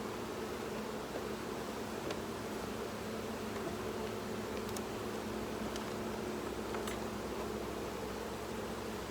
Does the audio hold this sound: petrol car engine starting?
no